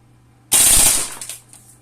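A Crusader airsoft MP5 fires on full auto in one loud, rapid burst lasting about half a second, followed by a few fading rattles.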